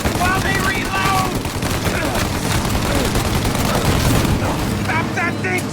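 Dense gunfire from a shootout in the video game Mafia: Definitive Edition, with rapid machine-gun bursts and loud repeated shots throughout and brief shouted voices near the start and end.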